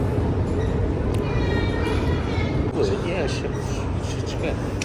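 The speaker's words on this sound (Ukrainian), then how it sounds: "хто був в метро в Варшаві на другій лінії" A Warsaw metro train on the second line rumbles steadily and loudly throughout, with a broad low roar and faint high squeals, while people talk over it.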